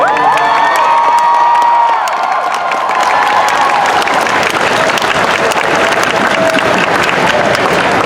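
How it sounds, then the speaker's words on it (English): Loud crowd applause with cheering and a few whoops, sustained clapping that thins slightly but continues to the end. "give a big round of applause for this awesome."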